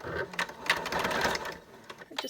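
A sewing machine runs steadily while stitching fabric for a tote bag being turned into a cushion: a close, continuous whirring stitch with slight dips in pace near the end.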